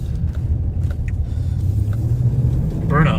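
Cars doing burnouts and donuts rumble with a steady, loud engine roar that swells toward the end, with voices faintly mixed in.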